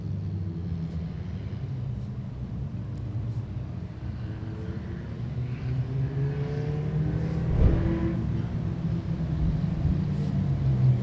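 A race car at Claremont Motorsports Park, pushed by another car, rumbles at a distance, its engine rising and revving around midway before holding a steady drone.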